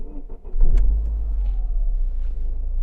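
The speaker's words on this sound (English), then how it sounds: "Voltometer, it's a bit too low, so it looks like let's start engine." A 1992 Lancia Dedra 2.0i automatic sedan, with a low battery and a suspected failing alternator, cranks briefly and starts, then settles into a steady close idle.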